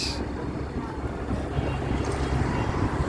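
Wind blows at a riverside launch landing, a continuous broadband roar buffeting the microphone with a low rumble and no clear pauses.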